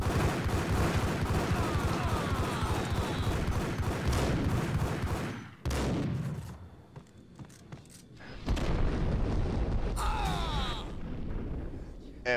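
Rapid gunfire from the Max Payne video game: dense bursts of shots with ringing echoes fill the first half, a brief lull follows, then loud firing resumes, with game voices mixed in.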